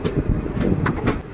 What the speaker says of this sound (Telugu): ఘట్కేసర్ రైల్వే స్టేషన్లో లూప్ లైన్ నుండి గూడ్స్ ట్రైన్ అయితే ఓవర్టేక్ చేస్తుంది